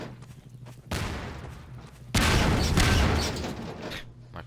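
Barrels exploding in Half-Life 2 Episode 2, two loud, rough blasts in quick succession, the second heavier, each followed by a crackling, rumbling decay.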